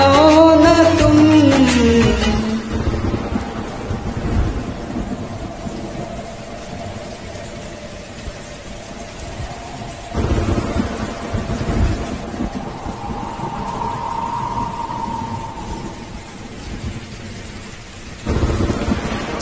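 Rolling thunder rumbles over steady rain, with a melodic tone fading at the start and another low swell of thunder later on.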